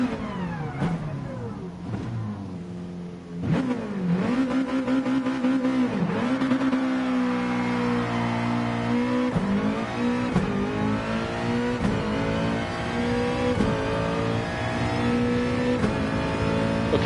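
A race car's engine revving hard at Bathurst in the GT Sport video game, loud and close, climbing through gears with sharp shifts and rising and falling pitch over a sustained drive.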